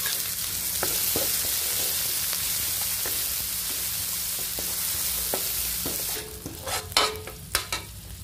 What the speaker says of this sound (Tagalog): Igisa ko na ang bawang. Sunod ko na yung sibuyas.